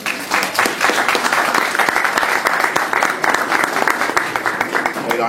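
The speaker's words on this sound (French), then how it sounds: "Vous pouvez l'applaudir s'il vous plaît" Loud, lively clapping from the audience at a kickboxing press conference in Paris, greeting a Thai fighter, crisp individual claps blending into a steady roar that holds for several seconds.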